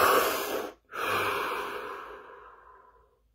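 A single deep breath: a long airy inhale, a brief pause, then a slow exhale that fades away, close and alone with no talk.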